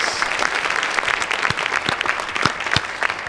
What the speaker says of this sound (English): Let's give some applause real quick